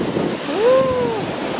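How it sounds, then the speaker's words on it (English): Surf breaks along the beach in a continuous wash of noise, heavy with wind buffeting the microphone, while a brief tonal whine rises and fades partway through. "we're finally here at the beach"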